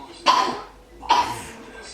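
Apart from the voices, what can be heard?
coughing in the background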